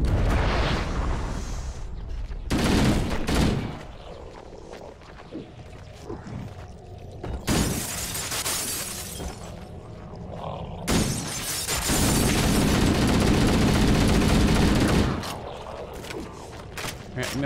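Shooting and combat noise against the Flood in Halo Combat Evolved, with repeated loud bursts of gunfire, crashes and shattering impacts spread across a sustained, noisy battle, with some voices in the mix.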